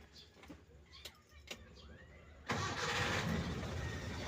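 A vehicle engine starts after a few faint clicks and thumps, then catches and settles into a steady, fairly loud idle that runs to the end.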